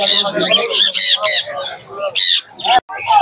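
Lutino cockatiels at Naihati pet market squawk in loud, harsh bursts close by, with a person talking between and under the calls.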